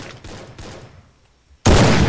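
Gunfire from the battle-royale video game Free Fire: a few muffled bursts early on, a near-silent gap, then a loud, sustained burst of shots that fills the last half-second.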